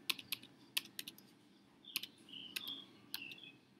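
Fingers type on a computer keyboard while searching a setting, a scattered series of crisp, quiet key taps close by with brief pauses, against a low background hum and no talking.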